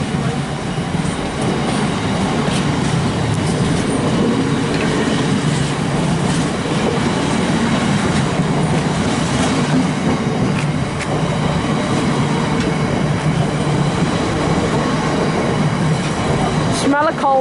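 A train with many wagons rolls past close by with a continuous heavy rumble, rhythmic wheel clatter and occasional squeals. The noise is loud and steady throughout, and a brief squeal comes near the end.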